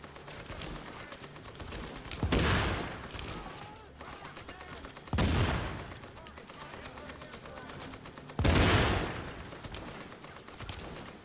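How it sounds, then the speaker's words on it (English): Sustained M60 machine gun fire in The Division, a dense rattling stream punctuated by three loud heavy bursts roughly three seconds apart, close and continuous throughout with no talk. "That M60, man, that shit shoots for days."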